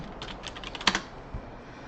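Quick keystrokes on a computer keyboard as a folder name is typed, a short burst of light clicks with one sharper key press near the middle, close and fairly quiet.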